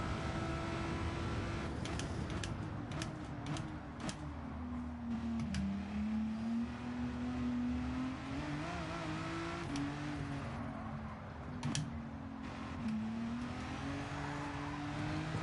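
A race car engine in Gran Turismo 7 drones steadily throughout, its pitch rising and falling through the gears with repeated shifts and brief bursts, loud and close with no talk.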